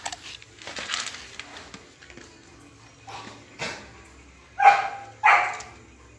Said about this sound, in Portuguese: Você tá latindo